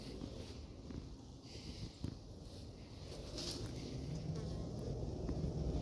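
Near beehives in an apiary, a hunting hornet and bees buzz faintly outdoors, a soft continuous insect drone with light wind and occasional small knocks.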